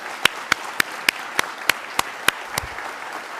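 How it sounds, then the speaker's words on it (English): A sparse, evenly spaced run of about nine sharp hand claps rings out after the national anthem at a Navy awards ceremony, each clap crisp and separate rather than merging into a dense ovation. "how about a round of applause for the national anthem?"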